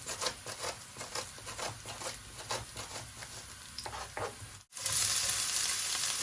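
Onion added to hot oil for beetroot spring rolls, crackling and sizzling steadily with stirring scrapes, then a brief gap before a louder, denser hiss.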